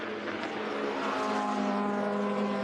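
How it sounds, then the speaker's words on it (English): An Audi race car engine at the 2016 24 Hours of Le Mans, apparently faulty and stuck at idle in the pits, runs at a steady, even hum, fairly close, with a faint rising whine near the end and no voices. "Sounds like the engine is running on idle."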